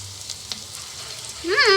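Onions, dried chilies, curry leaves and green chilies fry in a tempering for palak pappu, a soft sizzle close by that swells into a louder burst of hissing near the end, with faint background noise and no clear speech.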